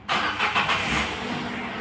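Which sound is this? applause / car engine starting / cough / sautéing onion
car engine starting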